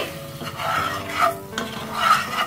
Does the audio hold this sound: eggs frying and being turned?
yes